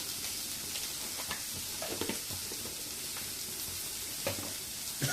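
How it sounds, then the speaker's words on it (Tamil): Onions sautéing in a pan with a steady, close frying sizzle and a few soft stirring scrapes scattered through, no voices. "வெங்காயம் கொஞ்சம் நேரம் வதங்கட்டும்"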